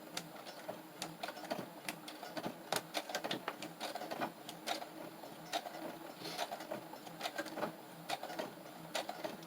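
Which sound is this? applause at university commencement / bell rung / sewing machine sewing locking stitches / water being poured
sewing machine sewing locking stitches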